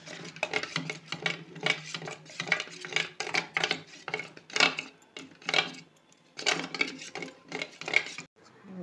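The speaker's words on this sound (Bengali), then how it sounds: "ধনে আর জিরের মধ্যে আমি একটু দিয়ে দেবো টক দই। মশলাটা আমি একটু ফেটিয়ে নিচ্ছি।" Spice paste of coriander and cumin being whisked with sour yogurt in a bowl, giving busy rapid scraping and clinking strokes in bursts with short pauses, close and moderately loud.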